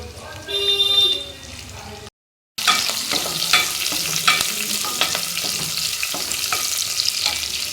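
Crushed garlic and curry leaves frying in hot oil for a chicken liver fry, giving a steady close sizzle with clinks of stirring, preceded by a brief pause and a faint tonal hum.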